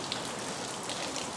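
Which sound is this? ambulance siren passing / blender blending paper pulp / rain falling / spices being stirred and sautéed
rain falling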